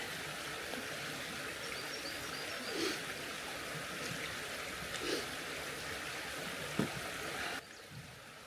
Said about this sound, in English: With the sound of the river, it's lovely.